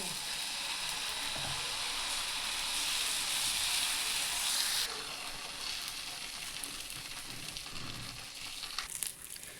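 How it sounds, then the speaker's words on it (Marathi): Dosa batter sizzles on an oiled pan, a steady dense hiss that runs loud for the first half, then eases to a softer, uneven crackle. "आपण त्याला आता तेल लावून घेतलेलं आहे पॅनला आपण डोशासाठी टाकून घेऊ"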